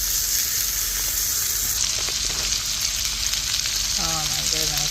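Steak frying in a pan at a lakefront camp, a steady loud sizzle throughout, with a few light clicks and a brief rising tonal squeak near the end.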